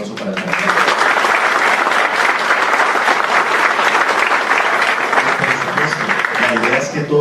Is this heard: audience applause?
yes